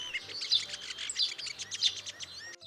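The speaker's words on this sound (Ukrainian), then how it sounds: "Це шпак." A starling sings a lively run of chirps, whistles and rapid trills, fairly close and clear, before stopping abruptly.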